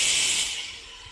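Beetroot sautés in ghee, giving a soft steady sizzling hiss that fades slightly over a brief moment.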